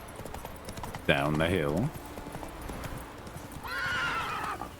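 Roach the horse in The Witcher video game whinnies loudly in a rising, wavering call, followed later by a second, steadier neigh. Hoofbeats clip-clop underneath throughout, and someone talks over the galloping.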